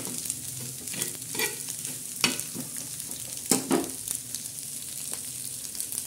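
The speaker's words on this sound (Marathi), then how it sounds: "असे अंडे असे फोडून घ्यायचे." Eggs being cracked into a pan and cooked for a green chilli and onion egg bhurji, with steady sizzling frying and a few sharp taps and scraping stirs standing out.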